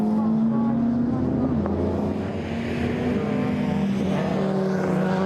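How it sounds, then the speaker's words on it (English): A Lancia rally car's engine revving and droning steadily at Lydden Hill rallycross, a continuous loud roar with shifting pitch as it accelerates, with faint crowd or commentary noise underneath. "Meanwhile, Grzegorz Kalinecki managed to get the Lancia fired up and started to make some progress"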